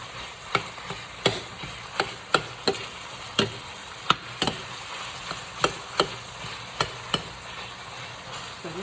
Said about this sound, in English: So just smash it right down, just like that.